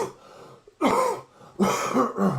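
A man watching a Champions League football match coughs and clears his throat several times, close and loud, in short harsh bursts separated by brief pauses.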